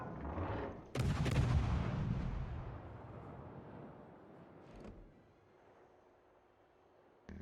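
A heavy naval gun salvo from the World of Warships game booms with a sharp blast and a rumbling tail, followed by a fainter distant report and another shot starting at the end. No voices are heard.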